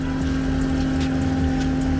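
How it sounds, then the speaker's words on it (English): An RV dump station waste pump flushing the black tank gives a steady mechanical hum with liquid churning and trickling under it, close and constant throughout. "It's a waste pump."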